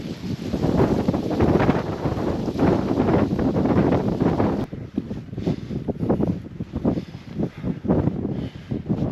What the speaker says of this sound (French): le vent est de plus en plus frais